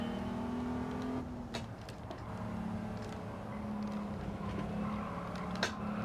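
A fast car's engine in Gran Turismo 7 holds a steady, loud drone through a corner in VR, its pitch shifting slightly as the car eases off and picks up again, with a few brief clicks and no talk.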